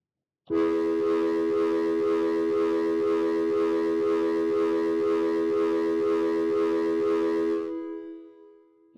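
A sustained, distorted acoustic guitar tone rings steadily at high level for about seven seconds, then cuts off and a quieter tail fades out.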